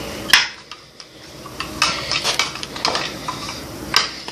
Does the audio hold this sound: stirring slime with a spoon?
yes